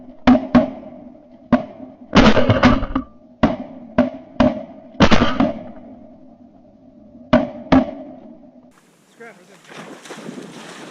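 Shotgun blasts ring out during an opening-day duck hunt in Virginia, a dozen or so sharp, loud reports in irregular clusters, some doubled in quick succession, followed by wind noise across open water.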